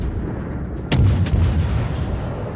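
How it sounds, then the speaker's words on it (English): A British Tier I cruiser, the Black Swan, fires a salvo in World of Warships: one sharp booming naval gun blast followed by rumbling echoes over steady ambient game noise. "Gonna fire 4 shots right there."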